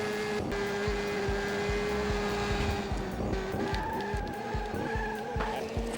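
A race car in the Le Mans 24 Hours PS2 game brakes late and skids, tires squealing in sustained tones over a buzzing engine with rapid rhythmic pulses, loud and close throughout.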